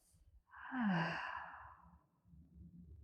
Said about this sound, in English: a slow inhale through your nose, longer exhale out the mouth